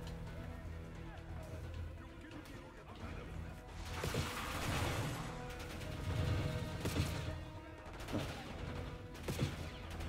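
Gunfire in Call of Duty Black Ops 6 with bursts of automatic fire and impacts rolling through a busy in-game battle, loud and repeated, layered with game sounds and other noise.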